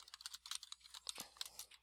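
Rapid, uneven keystrokes on a computer keyboard clatter close by in a quick burst of light clicks, with no voices over them.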